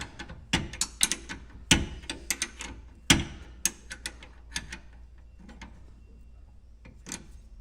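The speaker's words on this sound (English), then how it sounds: "I could put a socket on here, but the problem is the bottom one. The wrench works better." A wrench turns a bolt on the brake of a Polaris Trail Rider 570. A series of close, sharp metallic clicks and knocks comes in irregular bursts, some louder, with quieter ticks between them.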